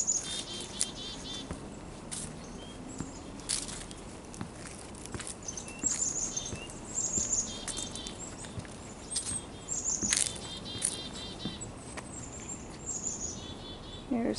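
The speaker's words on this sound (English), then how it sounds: "So it's the black-capped chickadee." Black-capped chickadee calling in a wetland, short high chirps and call notes scattered through the clip, fairly faint over a steady insect-like background hum, with no talk heard.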